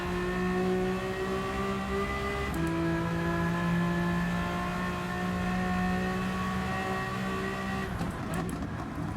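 Renault Avantime engine in Gran Turismo 7, a steady mid-pitched drone holding revs under load, with a gear shift partway through and rising again toward the end.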